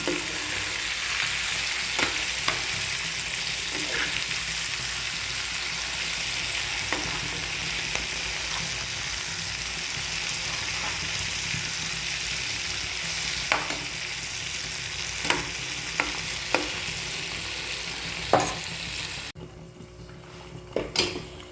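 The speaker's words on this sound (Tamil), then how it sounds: "நல்லா ஃப்ரை ஆகும்போது நல்லா பொட்டி பொட்டி தெளிக்கும்" Mutton brain fries in a pan with a loud, steady sizzle and crackle, occasional sharp pops and utensil knocks against the pan, and the sizzle drops away abruptly near the end.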